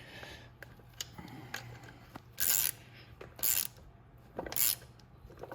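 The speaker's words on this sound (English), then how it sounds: "Just tighten them down and make sure they're nice and tight." A ratchet snugs down the top-end bolts on a 200cc GY6 scooter motor, giving three quick bursts of close clicking with light mechanical taps and quiet pauses between.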